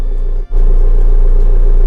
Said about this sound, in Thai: พอเราสตาร์ทยันเเครื่องเสร็จปุ๊บเราเช็ค มันมีอาการสะท้านอยู่นะครับ